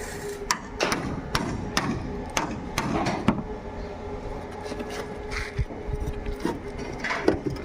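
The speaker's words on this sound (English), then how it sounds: "He's putting the chisel back there to help remove the spot welds." Hammer striking a chisel to cut out spot welds on a bus body during an Indonesian bus conversion, a run of sharp metallic knocks at uneven intervals, nearby, over workshop background noise.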